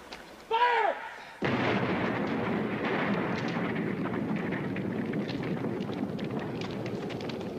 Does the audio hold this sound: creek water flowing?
no